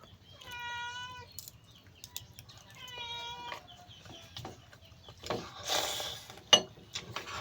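A hungry cat meows twice in drawn-out, wavering cries, close and clear, followed by scattered clatter and rustling sounds at home.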